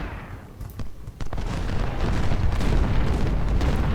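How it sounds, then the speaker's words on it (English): Artillery in the Civil War strategy game Ultimate General: Civil War, heavy booming cannon fire that swells into a continuous rumbling barrage, with sharp cracks early on. "The enemy artillery is not doing a lot of damage on Ledley's skirmishers for now."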